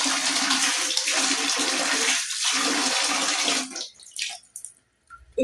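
Water runs steadily from a tap into a bathroom sink as the face is washed, a close continuous gush that breaks into splashes and trickles before stopping.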